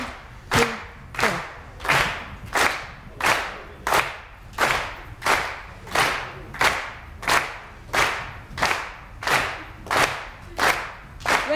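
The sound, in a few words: group clapping on the beat in a dance workshop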